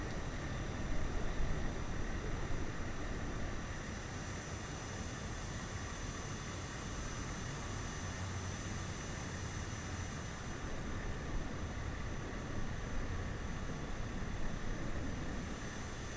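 An aircraft in Microsoft Flight Simulator approaches to land near Barra in the UK, a steady broad engine roar with a continuous high whine that holds constant throughout, no voices.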